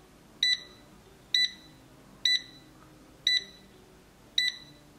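Air fryer control panel giving five evenly spaced electronic beeps as buttons are pressed, clear and close against a quiet background.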